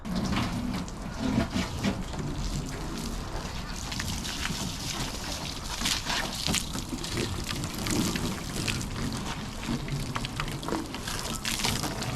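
Steady rush of water spraying over a Ford Mustang Mach 1 after a fresh paint job, a continuous splashing hiss with wind noise on the microphone.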